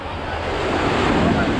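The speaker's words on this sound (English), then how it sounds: "hopefully we're gonna try not to get hit by the waves" Rushing surf and wind noise build steadily at Repulse Bay Beach, Hong Kong, a continuous wash of breaking waves close by with no voices.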